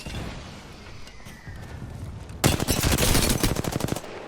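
Rapid automatic gunfire in an online shooter game, Apex Legends-style: a dense burst of loud, fast repeated shots starts midway after quieter background game noise and continues to the end.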